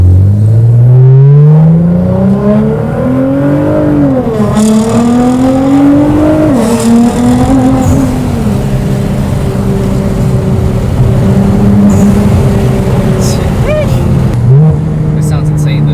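A Nissan GTR fitted with a new Fi exhaust revs hard, the loud engine note sweeping up and down through several blips and pops, close and raw, with voices talking over it.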